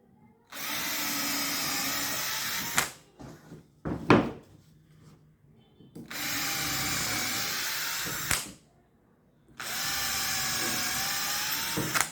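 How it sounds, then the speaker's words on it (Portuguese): A power drill bores holes into the edge of an MDF furniture board in three long, loud, steady whirring runs. Short pauses between them carry clunks and handling knocks. "Então vou primeiro fazer os furos, depois eu botar a cola e parafusar, entendeu? Fazendo a furação."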